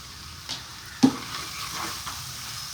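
Curry leaves drop into hot oil in a frying pan and burst into a sharp crackling sizzle, with a few stirring scrapes as the frying settles into a steady hiss.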